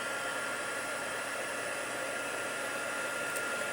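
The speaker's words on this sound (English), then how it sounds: "Let's bring in my heat tool." An embossing heat tool blows hot air, a steady, even, close whoosh of fan and airflow that holds without change for several seconds, with no talking over it.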